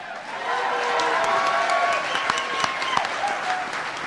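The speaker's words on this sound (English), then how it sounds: "Thanks for all the applause, folks." An audience at an academic symposium applauds steadily for several seconds, dense clapping at moderate loudness heard from within the hall.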